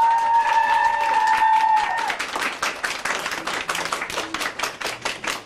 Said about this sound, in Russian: Ну, попросим аплодисменты.